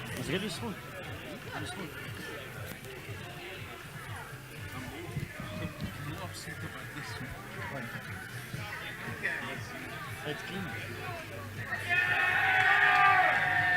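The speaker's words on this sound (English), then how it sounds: "The crowd cheers loudly as JP Bloom gets that one through." A rugby stadium crowd roars and cheers as a conversion kick goes through, a broad sustained swell of noise that grows louder toward the end, under commentary.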